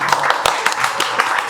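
Scattered claps from a small studio audience welcome a guest, a brief patter of hand claps with a faint voice underneath.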